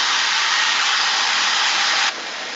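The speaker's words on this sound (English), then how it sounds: "Now I'm going to take my hairdryer and just dry it a little bit." A hair dryer blows steadily on hair after hairspray, a loud, constant close-up whoosh that drops to a lower setting near the end, with no talking over it.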